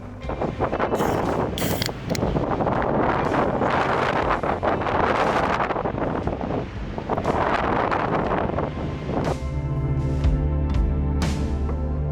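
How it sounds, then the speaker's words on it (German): Strong wind buffets the microphone in loud, continuous gusts at Paracas, Peru, with a brief lull midway and a steadier, droning tone toward the end. "habe ich schon erwähnt, dass es windig war?"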